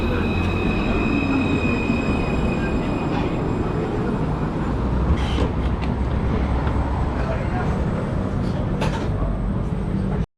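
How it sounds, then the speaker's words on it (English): A Barcelona tram rolls in close by with a heavy rumble, and its wheels squeal in high, drawn-out tones along the rails. There are sharp metallic clanks near the middle and end, and faint voices sit under the noise. "And here comes the tram."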